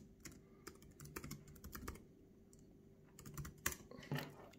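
Quiet, close keystrokes tapping in quick irregular bursts on a Lenovo ThinkPad X1 Yoga 4th Gen laptop keyboard, with short pauses between words and a few louder presses.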